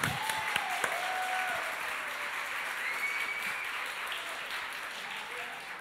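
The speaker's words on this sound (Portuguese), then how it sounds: "vamos aplaudir ela" A church congregation applauds a first-time visitor, with steady, even clapping from many hands filling the room at moderate volume throughout.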